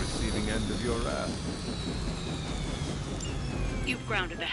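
Helicopter and aircraft engine noise from a combat video game against Hydra forces, a steady loud drone with rising whine and rotor-like wash throughout, while game voices talk over it.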